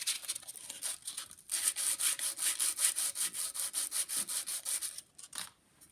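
Soft brass phonograph gear being deburred by hand, a rhythmic series of quick scraping strokes, about a dozen in a row, close and fairly loud, then trailing off into a few scattered rubs.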